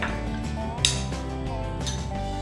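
Dhokla batter gets mixed in a bowl, a utensil clinking and scraping against the dish in quick strokes, close and fairly quiet.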